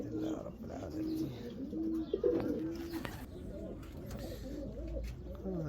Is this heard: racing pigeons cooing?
yes